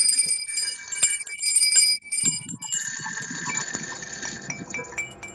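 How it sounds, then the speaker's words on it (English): Handbells and other noisemakers rung by participants of a Unitarian Universalist service over a video call: bright, overlapping metallic ringing that carries on for several seconds with a jumble of clinks and rattles, and no talking. "if you have a bell or something to make a joyful noise, please unmute yourself now and ring it with gusto"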